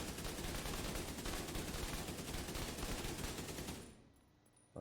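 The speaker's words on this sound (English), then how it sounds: "that's using my AKM" An AKM rifle fires in a video game, a dense, loud, continuous burst of automatic gunfire that rolls on for several seconds before cutting off abruptly into quiet.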